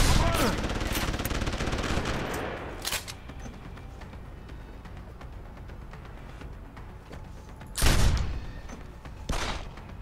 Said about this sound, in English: This is the fucking gunshot!